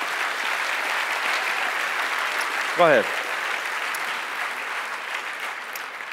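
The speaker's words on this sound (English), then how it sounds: "And give yourselves a hand." Audience at an entrepreneur event applauding, a steady wash of clapping throughout, with a brief spoken exclamation from a man partway through.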